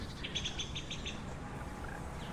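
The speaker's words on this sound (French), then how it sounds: "La grive. La pluie arrive." A song thrush sings outdoors in short, repeated bright phrases that come fairly faint over a steady low background rumble, then fade to a quieter call near the end.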